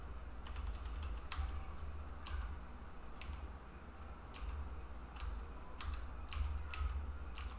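Computer keyboard keys tapped in short irregular bursts of crisp clicks at a steady, fairly quiet level over a low hum, while storyboards are drawn with Grease Pencil in Blender; no one talks.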